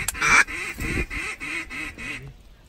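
Mallard ducks flying in during a duck hunt give a quick run of loud, close, nasal quacks in an uneven rhythm before falling quiet.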